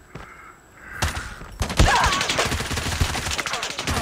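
Dense, rapid gunfire and explosive bursts ring out close and loud in the mobile shooter game Call of Duty Mobile on an iPhone, starting after a quieter moment and continuing steadily.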